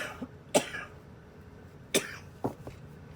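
Someone nearby gives a few soft, separate coughs, three or four short bursts spread across a few seconds in a quiet indoor space, with no speech between them.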